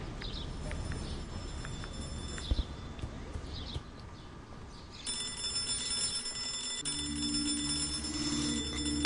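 A telephone rings in the video game Hello Neighbor, a repeating electronic bell with ticking and clip-clop-like knocks before it, fairly quiet and mixed with game ambience.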